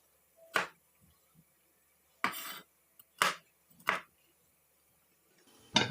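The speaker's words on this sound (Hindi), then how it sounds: "मैं शिमला को भी क्यूब्स में ही काटूंगी। इस तरीके से दरमियान से कट लगाएंगे।" A knife slices through capsicum on a cutting board as it is cut into cubes for chicken jalfrezi, five or so crisp, separate chops with quiet gaps between them, close and clear, with no talking.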